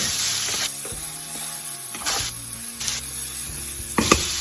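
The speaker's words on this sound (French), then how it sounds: "Et là, on va laisser les lardons saisir." Bacon lardons searing in a hot pan, a steady close sizzle and hiss with occasional louder bursts as they are stirred.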